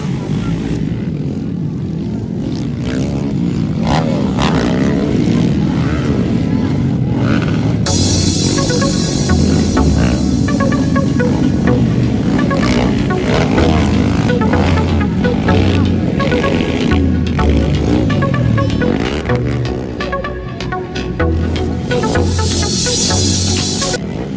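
Loud, droning motocross motorcycle engines roar throughout, rising and falling as bikes pass, with crowd noise and voices mixed underneath.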